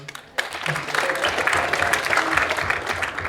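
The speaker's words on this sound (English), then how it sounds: "I want a round of applause for him." Audience members at a high school presidential debate burst into steady applause for a staff member, with a few voices mixed into the clapping.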